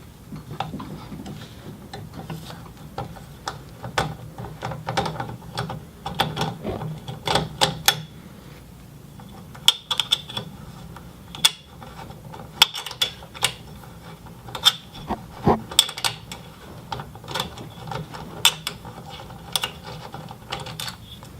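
An old scooter axle is unthreaded by hand, with a long run of irregular metallic clicks, ticks and rubbing scrapes that sit close and fairly loud, with short pauses between bursts.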